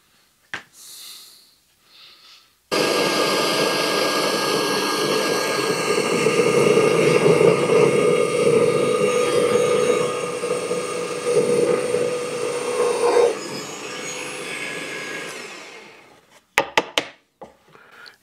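Power drill boring a screw hole into wood for mounting bearings on a sliding side push jig, giving a sustained whirring grind for about ten seconds after a few faint knocks, then stopping before some closing clatter.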